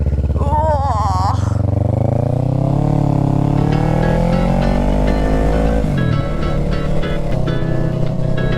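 A motorcycle engine runs steadily while riding, revving and rising in pitch, then dropping briefly before holding again, loud and close with wind, while someone talks over it.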